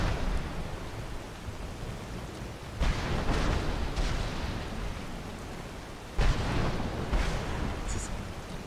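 The Storm Call thunder spell in the video game Skyrim brings two sharp thunder cracks several seconds apart, each trailing into a rumble, over a steady wash of rain-like noise.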